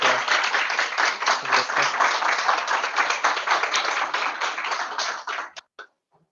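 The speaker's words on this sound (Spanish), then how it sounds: "Un aplauso para él, por favor." A modest audience claps to welcome a speaker at a talk in Chile, a close, busy patter of hands lasting about five seconds before thinning to a few last claps and silence.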